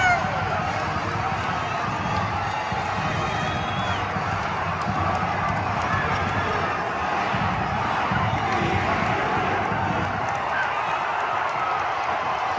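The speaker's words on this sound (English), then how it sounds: "Boise State storming the court" Boise State basketball fans storm the arena court after a 66-60 home upset win, a loud sustained roar of crowd noise, running footsteps and cheering with a commentator talking over it.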